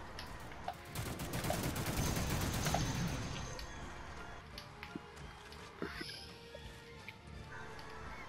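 Rattling volley of gunfire from a firing squad of plastic toy soldiers in The Mean Greens: Plastic Warfare, dense for the first few seconds then tapering into scattered faint shots and pops.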